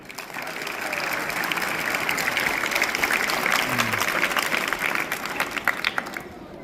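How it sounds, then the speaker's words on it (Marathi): A school audience claps loudly together for several seconds, a dense and steady roar of hands that thins into scattered claps near the end. "एकदा सगळ्यांनी मोठ्याने टाळ्या वाजवा आपल्या शाळेसाठी"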